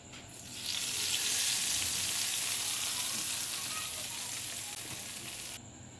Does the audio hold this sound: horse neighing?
no